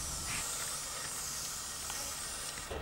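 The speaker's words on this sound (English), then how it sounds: "Just grab your can of WD-40 multi-use product from the shed and give it a really generous spray." A steady, close hiss of a WD-40 Multi-Use Product aerosol can spraying lubricant continuously for a few seconds onto a hedge trimmer.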